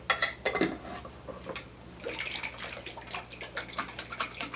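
Homemade salad dressing sweetened with honey and about a tablespoon of agave being shaken in a container, a rhythmic sloshing and rattling of liquid in quick bursts, close and moderately loud.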